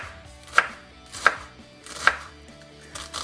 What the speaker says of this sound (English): we have to chop these bad boys up